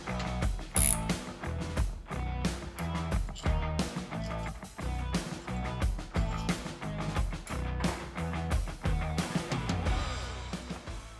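A ratchet working loose 14 mm throttle body studs on a fifth-generation ZL1 Camaro with a supercharger, rapid close clicking bursts repeating across the clip, no talking.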